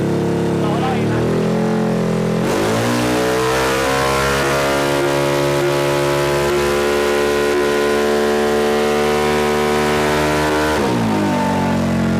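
A Yamaha X-Max scooter engine revs up close by, climbing quickly to a high, steady whine, holding for several seconds, then dropping back to idle, loud throughout.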